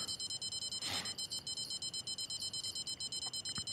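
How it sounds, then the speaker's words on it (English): Rapid, steady high-pitched electronic beeping pulses continuously throughout, a repeating alarm tone over faint background noise, with one brief splashy burst near the start, while night fishing for sturgeon in the game Fishing Planet. "I am so sorry for the beeping."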